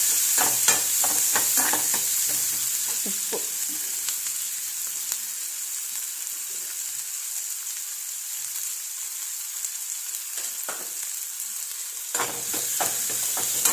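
Garlic and ginger sizzle in a pan with a bright, continuous hiss, close up, while a spoon scrapes and stirs in bursts at the start and again near the end.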